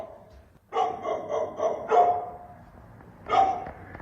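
A dog barking inside an abandoned building, several barks in quick succession, then a pause and one more bark, moderately close with no talking.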